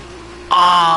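Formula 2 race car engine on a lap of Bahrain in F1 2019, a high tonal whine that leaps abruptly louder and brighter halfway through, then holds steady.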